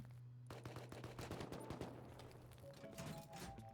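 Rapid bursts of gunfire from the survival video game Rust, a dense run of sharp shots and rattling volleys at moderate distance, continuing throughout with a steady tonal hum underneath.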